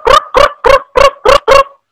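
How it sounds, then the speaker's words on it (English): Six loud, evenly spaced croaks in quick succession, each a short throaty burst, close and clear with silence between. "A toad croaks."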